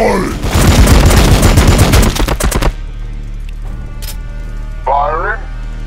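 Dense, rapid gunfire in a Warhammer 40K battle against an Ork horde roars loud and close for about two and a half seconds. A few isolated bangs and a short voice follow.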